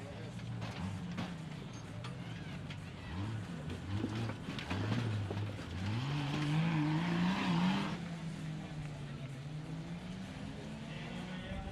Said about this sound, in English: Contreras pushing hard all the way to that finish line, heading through the 4 Wheel Parts Rock Garden.